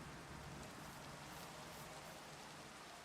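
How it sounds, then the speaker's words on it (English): Steady rain falls in the Minecraft Cobbleverse game world, a soft, even hiss of raindrops continuing without pause, with no talking. "The fact that it just started raining."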